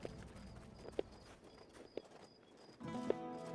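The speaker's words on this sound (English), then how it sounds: "there is a horse in this game, but it's totally useless." Horse hooves clip-clop in the Tainted Grail video game, a few spaced hoof thuds at a walking pace over a low game ambience that swells near the end.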